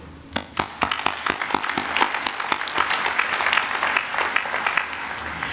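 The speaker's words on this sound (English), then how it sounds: "So I think you owe yourselves a round of applause." Graduation crowd at a University of Waikato ceremony applauding the graduates, starting with a few separate sharp claps that quickly swell into a dense, sustained round of clapping from a large hall audience.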